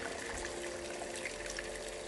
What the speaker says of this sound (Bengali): এখন আমি পরিমাণ মতো গরম পানি ঢেলে দিচ্ছি।